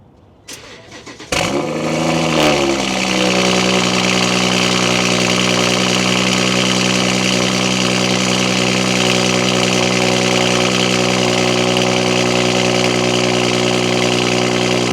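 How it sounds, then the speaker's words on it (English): A BMW with an AWE exhaust fires up with a sharp crank and a loud revving flare, then settles into a steady, deep, resonant idle heard up close. "AWE exhaust sounds crazy. BMW sounds so good."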